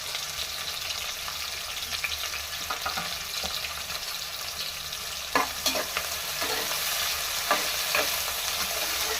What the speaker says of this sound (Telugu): ఇక్కడ నుండి ఇలా గోల్డ్ కలర్ వచ్చే వరకు వేయించుకోండి